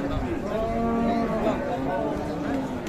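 Sahiwal bulls and cattle at a Qurbani cattle market mooing in long, low, drawn-out calls, overlapping one another, with faint crowd murmur in the background.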